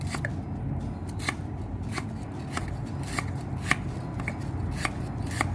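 Knife thinly slicing lemongrass stalks on a cutting board, a quick, fairly steady run of crisp chopping ticks close by.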